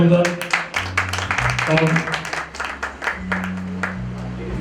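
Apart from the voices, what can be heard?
audience applauding the orchestra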